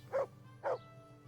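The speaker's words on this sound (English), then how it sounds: "I've never heard a dog that even came close to making a sound like that." Two short, loud, oddly strained barks from a dog in the medieval video game Kingdom Come: Deliverance, about half a second apart, each standing alone against a quiet background hum.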